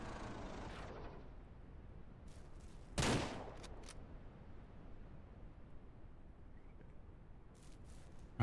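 A single sharp rifle shot in the Ranch Simulator video game during a night bear hunt, a broadband crack with a short tail in the middle of a quiet stretch, preceded by a softer burst and followed by faint clicks.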